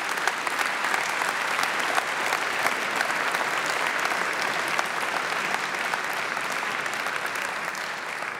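Sustained, dense applause from a large audience at the International Children's Peace Prize ceremony 2014 fills the hall at an even, loud level throughout, with no voices standing out.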